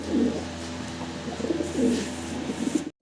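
A pair of fancy pigeons coos in soft, repeated low rolling phrases, fairly close and clear, with a faint steady hum underneath and no talking.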